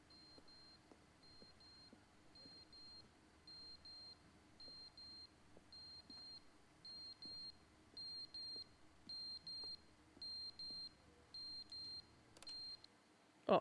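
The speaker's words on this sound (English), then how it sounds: "What is that beeping sound?" A video game beep from The Stanley Parable Ultra Deluxe repeats in short evenly spaced tones at a steady rhythm over a quiet background, ending with a brief louder clatter.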